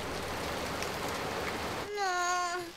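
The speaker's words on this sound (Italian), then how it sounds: "Guarda, piove fortissimo." Heavy rain pours in a steady, dense hiss in a children's cartoon, then a high whining voice rises over the downpour near the end.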